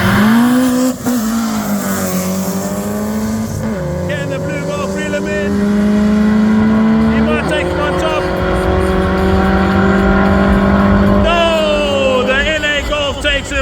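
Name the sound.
naturally aspirated car drag racing a turbocharged VW Golf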